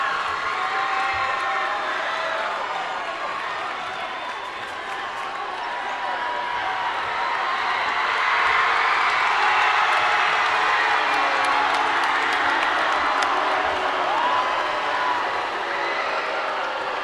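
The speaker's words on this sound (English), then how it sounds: "And now the hometown crowd making some noise." A hometown crowd at a high school basketball game makes a loud, continuous roar of cheering and noise in the gym. It swells to a peak midway and then holds steady.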